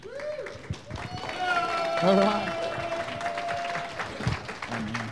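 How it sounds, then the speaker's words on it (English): Audience applause welcoming a speaker at a wellness talk, a crowd clapping beneath a voice and other room noise, rising briefly in the middle before fading. "give a warm round of applause"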